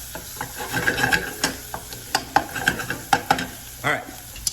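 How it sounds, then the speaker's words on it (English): Onions and mushrooms sautéing in a pan, a soft sizzle under repeated scraping and stirring strokes from a utensil, close and fairly loud, in irregular rhythm. "I'm just going to cook these down, get the onions nice and translucent, sweat some of that moisture out of the onion, out of the mushrooms"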